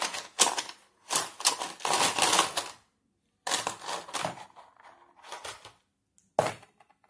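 Dice clatter and tumble in several short bursts of rattling across a hard surface for a card reading, close and fairly quiet, with pauses of silence between throws.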